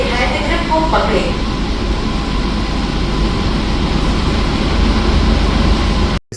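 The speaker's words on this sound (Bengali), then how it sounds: "ट्रेन अब रवाना हो रही है।" An AC local train pulls away, its loud, steady low rumble and wheel noise filling the carriage from start to finish before cutting off abruptly at the very end.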